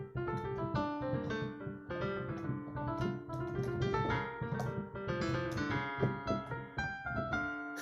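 An original two-part invention in Bach style is played as two interwoven contrapuntal lines that move steadily for several bars. It is fairly quiet and unaccompanied, with no speech.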